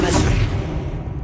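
A casting of the Arresto Momentum spell in Hogwarts Legacy, a soft airy whoosh that swells early and then fades into a dim sustained magical wash across just over a second, with no voices.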